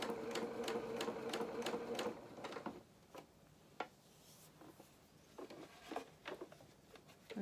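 A domestic sewing machine stitches a fabric collar in quick rhythmic bursts of needle clatter, pauses, then runs again in shorter spurts, with soft fabric handling in between, close and fairly quiet.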